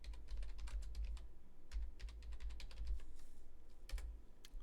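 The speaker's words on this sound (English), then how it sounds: "I'm going to search in here, so let's see. I can type in I don't know, landscape." Rapid typing on a computer keyboard, bursts of crisp key clicks close and fairly faint, with short pauses between runs and no voice over it.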